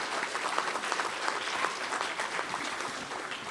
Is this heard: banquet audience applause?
yes